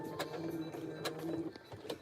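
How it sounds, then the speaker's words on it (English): A sewing machine runs in short bursts indoors, its quiet mechanical whir broken by sharp clicking ticks at an uneven rhythm, faint and close with no talk over it. "this sewing machine just driving me mad"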